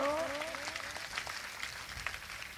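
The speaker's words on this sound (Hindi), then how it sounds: "ताली बजा दो, स्वागत करो।" Faint, distant applause from an audience at a Ram Katha religious gathering, soft and continuous with a thin scattered texture.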